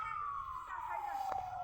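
A vehicle siren on the road near Kanyam wails in one steady tone that slowly falls in pitch, fairly loud and continuous over a low background rumble.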